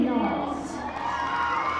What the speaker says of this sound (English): Decent crowd here tonight.